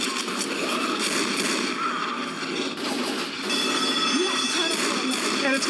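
Gunfire rings out in the zombie shooter Left 4 Dead 2 inside a building, a loud continuous barrage of shots over a dense game soundscape, with no talk.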